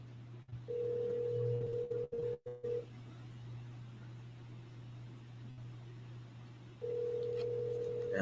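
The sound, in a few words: telephone ringing on an outgoing call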